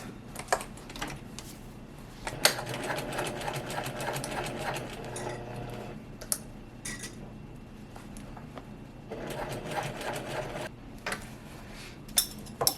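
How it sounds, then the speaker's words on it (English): A sewing machine stitches a seam across a quilted fabric shoulder bag, running in rapid bursts of mechanical chatter separated by short pauses, close and fairly quiet. "So now I'm going to stitch across these at our regular seam allowance."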